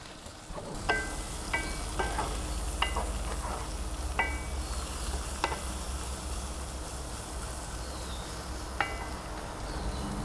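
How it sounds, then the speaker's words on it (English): Sliced onions seasoned with California tri-tip rub sizzle steadily on a hot griddle, a soft continuous hiss broken by occasional sharp pops and spatula scrapes, with no one talking. "Now we're going to throw down about 2 cups of sliced onions and hit that with some California tri-tip from Cattleman's Grill."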